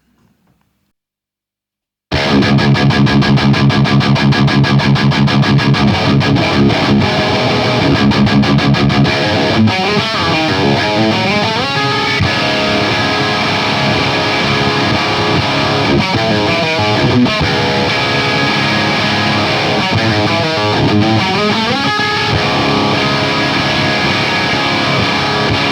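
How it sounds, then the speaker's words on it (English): Distorted electric guitar recorded through a studio preamp, starting after two seconds of silence, then playing loud, dense, sustained riffs with shifting chords that run continuously to the end. "if you want to listen to what the guitar sounds like, well, this is it."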